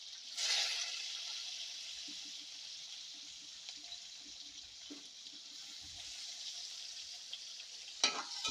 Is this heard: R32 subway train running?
no